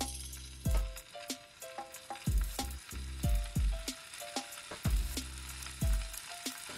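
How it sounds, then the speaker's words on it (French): Fish sizzling in olive oil in a hot pan, with steady bright crackle and hiss punctuated by repeated sharp utensil clinks against the pan in an uneven rhythm, close and moderately loud. "Et ensuite, je vais faire cuire le poisson."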